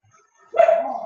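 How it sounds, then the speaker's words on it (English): A single dog bark, short and fairly close, with a slight trailing whine, after near silence. "my dogs are in the background, so you're probably hearing them bark every now and then"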